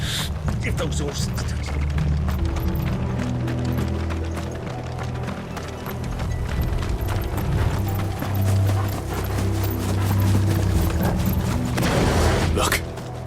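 Horses' hooves clip-clop in quick, repeated beats in a Final Fantasy XVI scene, running steadily amid rumbling clatter and low booms, with voices speaking over the action.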